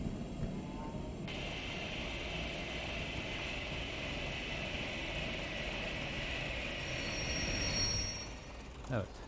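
Simulated Class 112 diesel railcar sounds in Diesel Railcar Simulator: a steady mechanical hum and rumble runs throughout as the train stops, a brief high whine rises near the end, then it settles with a soft knock.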